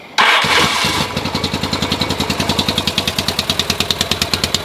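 A Yamaha XS650 motorcycle engine cranks and catches with a sharp start. It settles into a steady, close-up run of regular thumping exhaust pulses.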